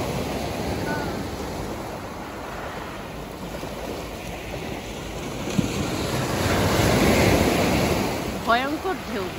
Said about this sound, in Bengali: ভয়ঙ্কর ঢেউ, ভয়ঙ্কর।